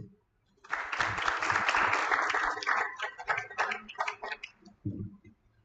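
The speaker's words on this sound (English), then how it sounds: "A round of applause for him, guys, please" Applause from an audience at a youth innovation challenge event, starting after a brief pause and sustained dense clapping for several seconds before thinning out, with a voice resuming near the end.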